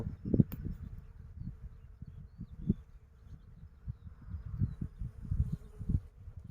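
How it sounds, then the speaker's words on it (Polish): Many bees buzz low and steady around a flowering willow in early spring, a dense close hum with small swells as insects pass near, no talk. "Pszczół po prostu jest dużo."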